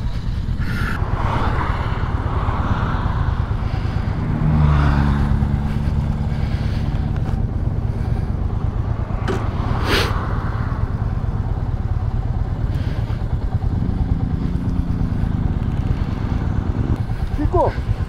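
Royal Enfield Classic 350 and Meteor 350 motorcycle engines drone steadily on a highway, with bikes passing and revving nearby as wind buffets the microphone and voices talk briefly over the noise.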